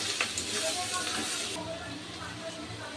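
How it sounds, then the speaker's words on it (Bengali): Spices with turmeric, chilli powder and salt frying alongside potatoes in a home kitchen pan, a steady close sizzle with scraping stir strokes that quiets partway through. "এবার সব মশলাগুলো আমি ভালো করে কষিয়ে নেব।"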